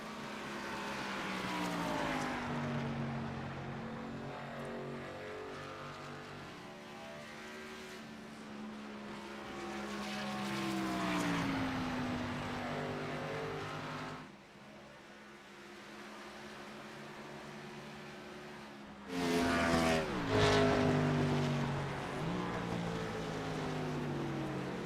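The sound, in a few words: race car engine at full throttle, Indianapolis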